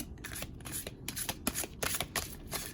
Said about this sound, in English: I like to usually shuffle a little bit.